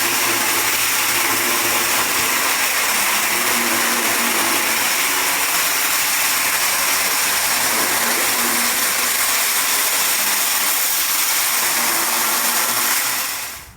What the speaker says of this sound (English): grinding down the floor just to get all the dirt and uneven surfaces roughed up a little bit for the epoxy